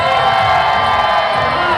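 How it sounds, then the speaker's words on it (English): Guests at a Jewish wedding reception scream together at full volume on cue, a dense, sustained roar of many voices packed close and loud throughout. "On the count of 3, I want everybody here to scream as loud as they can."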